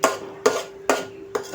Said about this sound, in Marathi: ढवळायचा आहे सतत हा मसाला, नाहीतर खाली लागू शकतो